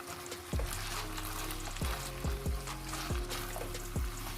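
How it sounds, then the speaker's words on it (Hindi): Carrots frying and being stirred in a pan for a Chinese rice dish, a steady close sizzle broken by several sharp scraping stirs at irregular intervals, with no talking. "ये भी इसको मैं भून रही हूँ।"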